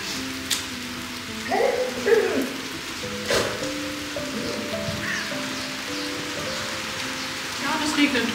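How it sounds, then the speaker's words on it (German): Rain patters steadily on surfaces in a castle courtyard while camping in Sweden, a soft continuous hiss with occasional nearby knocks and faint bird calls in the background. "Ja, das regnet ganz schön."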